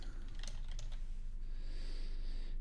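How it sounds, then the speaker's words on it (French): Typing on a computer keyboard, a quick run of clicking keystrokes near the start followed by a steady hum of room noise, close and moderately loud with no voice. "qu'est-ce qui se passe si je tape centre de sécurité?"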